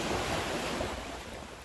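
Seaside waves at Khao Laem Ya beach make a close, steady roar of breaking surf, with wind noise blended in and no voices.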